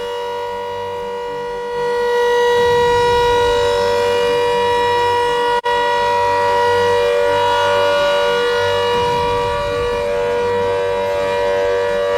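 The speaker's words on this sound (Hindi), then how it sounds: "ये आपने सुना, ये सायरन की आवाज" A newly installed civil defense air raid siren in Meerut, India, sounding during a test, wails continuously, loud and steady, with a rising swell partway through and a brief dropout in the middle.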